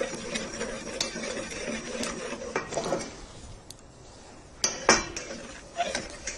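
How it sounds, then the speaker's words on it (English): Egg whites being stirred in a bowl over a double boiler, with close clinking and scraping of a utensil against the bowl, busy in the first half and then a few sharper knocks later. "So we're using a double boiler to cook it. And we're just kind of just mixing it."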